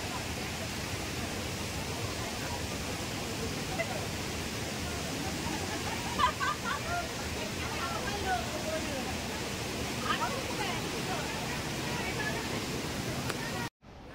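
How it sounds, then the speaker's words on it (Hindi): Steady broadband rush of falling water at the second section of Kempty Falls, a constant loud roar that fills the whole span with no break, and no clear talk over it. "ये है केम्प्टी फॉल्स का सेकंड सेक्शन।"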